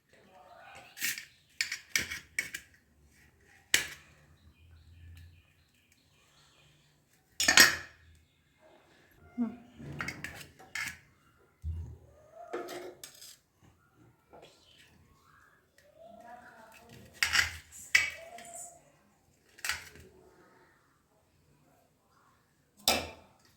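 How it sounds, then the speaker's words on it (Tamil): Sharp knife strokes tap against a cutting board in scattered bursts of quick chops through tomatoes and onions, close and crisp, with quiet pauses between them. "தக்காளி வெங்காயத்தை கட் பண்ணி எடுத்துக்கலாம்"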